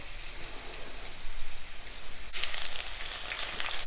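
Steady sizzling and crackling of onions frying in a hot pan, growing brighter and louder partway through, with no voices.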